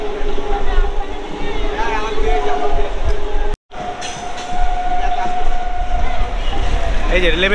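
Krishnanagar–Amghata passenger local train running on tracks, loud continuous rumbling and rattling from on board with a brief dropout midway, people talking over it.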